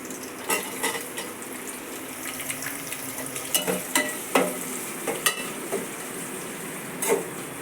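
Onions frying in hot oil for a biryani, a steady crackling sizzle with repeated sharp scraping and clinking of a spoon stirring against the pan, no voices.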